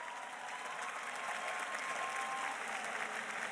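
Audience applause rolls through a hall at a college commencement ceremony, sustained dense clapping heard at a moderate distance and steady for the full few seconds.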